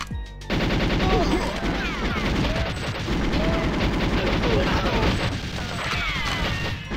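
Assault rifle fire in the video game GoldenEye 007, with dense repeated bursts and crashing impacts that run almost nonstop and loud, with game sounds layered over the shots.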